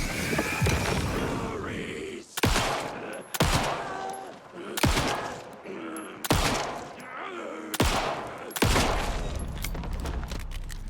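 Gunfire in the video game Alan Wake II: about six sharp, loud shots spaced a second or two apart, each with a booming tail, over quiet game ambience and some faint voice.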